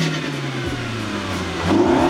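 A stock-intake Mini Cooper F-Series Clubman S engine revs up from idle, with a steady low hum rising in pitch near the end; close and fairly loud, no talking.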